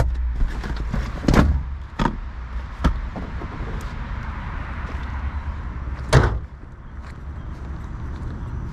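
A 1997 Mazda MX-5 Miata M Edition convertible top is lowered by hand, with a series of sharp clunks, latch clicks and rustling fabric at irregular intervals, close by, one louder knock near the end.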